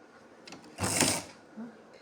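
Electric sewing machine started with the foot on the motor pedal, giving a short whirring burst of stitching up close, with brief quiet talk afterwards.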